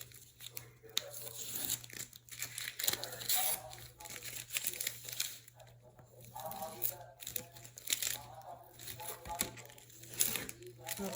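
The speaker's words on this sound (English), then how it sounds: "so we're just gonna take the tape off" Masking tape peels in short, crinkly tearing pulls from an engraved acrylic plaque cut on a Cricut machine, close and fairly quiet, with a steady electrical hum underneath.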